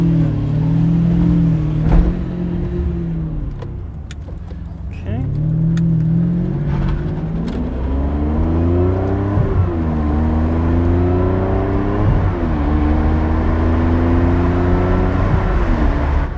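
A Ferrari 575 Maranello V12 pulls through repeated rising revs and gear changes, its engine note climbing then dropping in several waves, heard from inside the cabin with continuous road rumble beneath.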